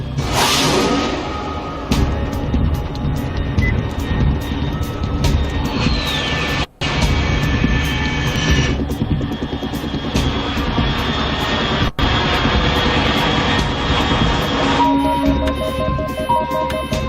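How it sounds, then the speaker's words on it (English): A loud aircraft in flight in the Metal Gear Solid 3 video game, a steady engine roar with whooshing passes that holds for the whole stretch and thins near the end, with no voices. "Unidentified aircraft detected."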